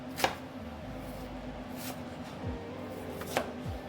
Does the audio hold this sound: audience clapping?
no